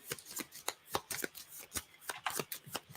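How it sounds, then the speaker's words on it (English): Cards being shuffled for a board game, a rapid series of close, crisp riffling bursts and flicks repeating irregularly over a few seconds, with no talk. "So I'll shuffle."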